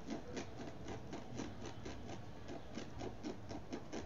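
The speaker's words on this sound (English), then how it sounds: "I'm scraping up with my fingernails" Fingernails scraping a DTF print off fabric, quiet rapid rhythmic scratching strokes repeating several times a second, close and faint with no talking.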